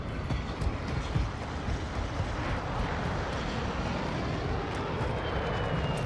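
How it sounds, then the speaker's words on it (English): Drone of an enemy UAV aircraft overhead in Call of Duty: Modern Warfare II, a steady, broad engine roar holding at even loudness with no speech. "Enemy UAV overhead."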